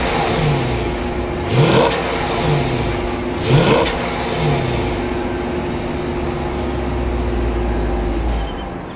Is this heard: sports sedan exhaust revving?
yes